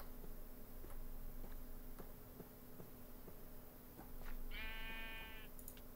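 Faint bleats of goats in a stall in Minecraft TerraFirmaCraft, with one clear wavering bleat near the end over soft ticking and low background noise.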